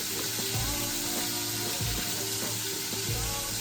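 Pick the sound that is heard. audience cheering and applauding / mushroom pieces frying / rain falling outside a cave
mushroom pieces frying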